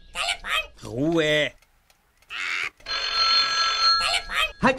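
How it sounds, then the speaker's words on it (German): An old-style telephone bell rings in a long steady burst, loud and close, with excited voices talking and shouting before and after it and a bird squawking nearby. "Telefon! Telefon!"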